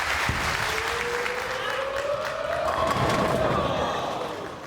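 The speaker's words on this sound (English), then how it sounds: "And now the crowd will bring Tommy Jones through this victory" Crowd applause at a professional ten-pin bowling match, a steady wash of clapping and crowd noise filling the hall for several seconds, with a faint tonal whistle-like sweep running underneath.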